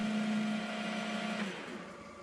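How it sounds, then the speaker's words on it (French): Machine tool cutting a small 45-degree chamfer on the edges of metal parts for a Jeep chassis, a steady whining hum with a tonal drone that drops away halfway through, leaving a softer grinding whir. "je change légèrement l'angle de mon outil pour pouvoir faire un petit chanfrein à 45 degrés sur le bord des pièces"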